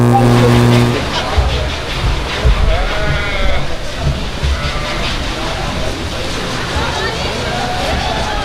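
Goats bleating at a county livestock show during junior goat showmanship judging, with several wavering calls rising over an announcer's amplified voice and general crowd noise in a large hall.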